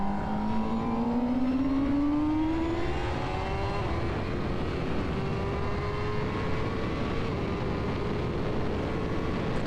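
A motorcycle accelerates hard at high speed on the Castellet race circuit, its engine note climbing steadily in pitch as a loud, continuous onboard roar, with wind rush throughout.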